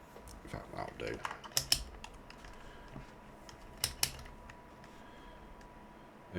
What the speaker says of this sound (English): If you're wondering what the clicking is, that's the FS25 Collector's key fob